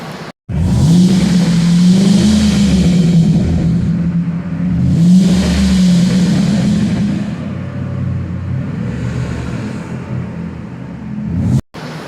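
A restored, customized Ford F-150 pickup's 4.6-litre Triton V8 revs hard and rumbles up close, swelling in a few throaty bursts before settling into a loud, steady idle.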